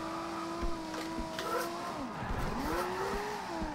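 A car engine revs hard in first gear in the racing game Forza Horizon 2, its pitch climbing, dipping and rising again over a few seconds, loud and close.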